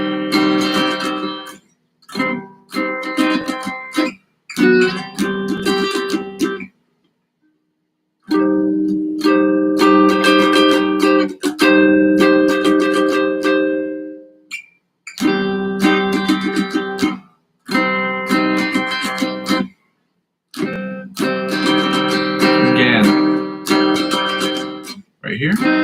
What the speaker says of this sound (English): Now the inside chords that sound like this